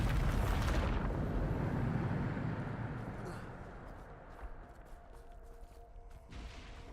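A Bombarda explosion spell in Hogwarts Legacy bursts with a loud, broad blast that rumbles and fades over a few seconds, followed by quieter debris and game sounds.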